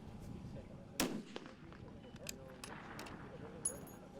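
A single sharp rifle report from a long-range shot at a target at an extreme-distance shooting event, under background crowd chatter and murmuring voices.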